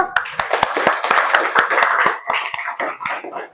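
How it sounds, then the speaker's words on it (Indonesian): Sharp, distinct hand claps from a small group of children and teachers in a classroom, uneven and loosely spaced, close by with quiet voices between them. "Tepuk tangan dulu."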